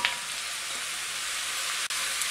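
Chopped pumpkin hits a hot pan for pumpkin soup, giving a steady, close hiss of frying that holds evenly for a couple of seconds, broken by one brief dip.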